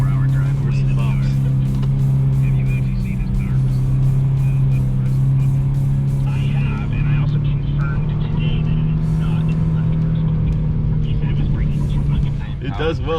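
Nissan Frontier overland truck driving at speed over bumpy dirt, a loud steady engine drone with rattling and thumping from the rough ground, a voice talking over it partway through.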